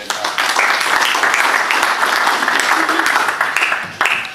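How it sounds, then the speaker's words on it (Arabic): An audience at a beach soccer club's general assembly in Martil applauds coach Ibrahim al-Maghribi, a burst of dense, sustained clapping that fills the room and tapers off near the end. "صفقوا عليه"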